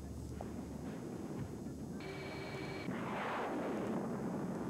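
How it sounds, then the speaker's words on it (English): A bombing explosion in a Sega video game: a steady rumbling roar swells into a broad, noisy blast that persists to the end, loud and unaccompanied by talk. "Also, good model explosion."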